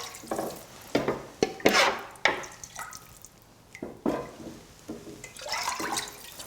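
Homemade stock for gluten-free pumpkin soup is measured out and poured into a pot, giving splashy pours and liquid sloshing in separate bursts, with clinks and pauses between them.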